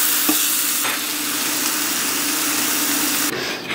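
Pastrami bacon fries in a hot pan, giving a steady, close, crackling sizzle that runs without a break, with a couple of faint clicks early on.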